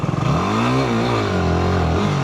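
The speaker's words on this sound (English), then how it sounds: "just give it some revs like this" A motorcycle engine revs hard, pitch rising and falling in a loud, close, continuous roar that holds steady for a couple of seconds.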